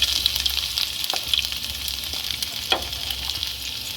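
Whole cumin seeds, chopped garlic and ginger fry in hot oil with a bright, steady sizzle, a couple of soft stirring scrapes breaking through, close and alone.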